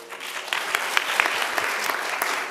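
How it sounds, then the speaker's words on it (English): Steady audience applause rings out at a school commission meeting for a charter school drum line and encore chorus, a dense continuous patter of many hands with a few sharper claps standing out, sustained throughout. "another round of applause for the drum line and the encore chorus"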